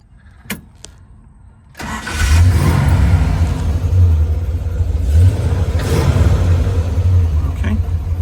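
A 1968 Dodge Charger R/T with a 4-speed fires up after a couple of clicks, its V8 catching with a loud burst and settling into a deep, rumbling idle with occasional revs, close to the microphone.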